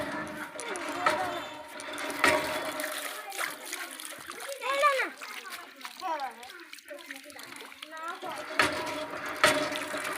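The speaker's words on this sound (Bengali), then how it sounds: "তো এটা হচ্ছে কলের পার, এখানে হাত ধুই।" Water running from an outdoor tap while hands are washed: an uneven splashing and spattering continues under a voice talking throughout, with brief breaks and occasional louder splashes.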